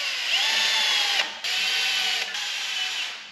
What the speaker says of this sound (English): that little dimple right there is enough for the mag drill to center itself up as it goes in